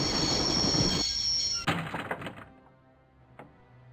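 A train in the video game Broken Sword rumbles loudly, then its brakes squeal and clank as it grinds to a stop, leaving quiet with a final metallic thunk.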